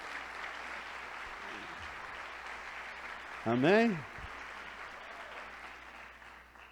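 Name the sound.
church congregation applauding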